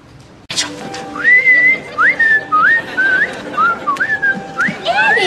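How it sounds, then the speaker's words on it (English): A person whistles a melodic tune of several rising, gliding notes in a short phrase, loud and close, with faint room noise and a sharp knock at the start. "That was me whistling, not the statue"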